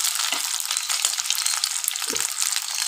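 Paneer cubes fry in a pan as part of a vegetarian paneer masala curry, giving a constant bright hiss with a couple of soft stirring knocks and no voices.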